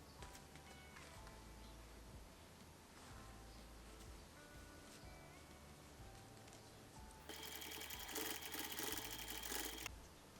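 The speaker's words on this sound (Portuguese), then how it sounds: "vou fazer uma costura aqui" A sewing machine stitches fabric for a small cloth mini backpack, its motor whirring in a low, faint, steady run of short bursts, followed near the end by a louder rustling burst.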